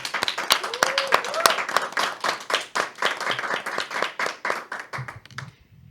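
A studio audience at a Spanish-language talk show applauds, giving dense, rapid clapping that is loud and close at first and then thins out and fades away at the end.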